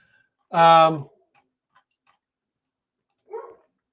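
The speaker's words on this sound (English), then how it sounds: "Peanut has thoughts about it as well, since she's barking her head off back there." A dog named Peanut, some distance back, lets out one sharp bark followed by a softer, shorter yelp a few seconds later, with near silence between.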